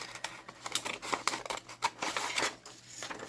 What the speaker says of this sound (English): I think I'll get out these funky scissors in a minute and cut waves in it.